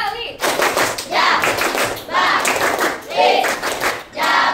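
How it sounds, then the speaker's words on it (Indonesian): A group in a classroom claps hands in rhythmic bursts, sharp, close claps in repeated clusters separated by short pauses, with children's voices in between. "Tepuk tangan dulu"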